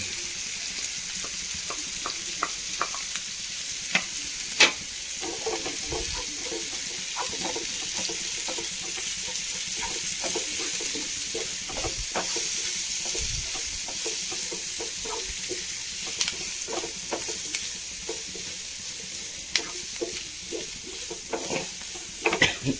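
Spice powders stir-frying in a pan while making a cauliflower masala, with a steady soft sizzle and frequent clicks and scrapes of a stirring spoon, close up and without talk.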